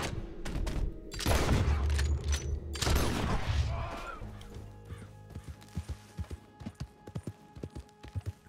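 Heavy gunfire erupts in Red Dead Redemption 2 in the desert of West Elizabeth: two loud bursts of rapid shots, then a fading tail into steady horse hoofbeats clopping along.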